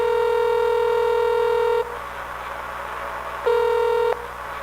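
A telephone ringback tone sounds twice during a call, each steady electronic ring lasting about two seconds with a silent gap between, loud and alone with no voices.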